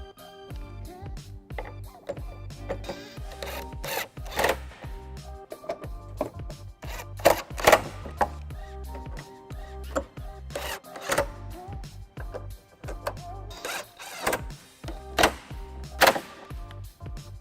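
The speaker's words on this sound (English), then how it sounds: "With my electric socket, 15mm, I'll tighten all 8 bolts that I hand tighten." An electric socket wrench with a 15mm socket tightens hitch bolts on a 2001 Pontiac Aztek, giving repeated short whirring and ratcheting bursts with clanks in between, close and uneven in rhythm.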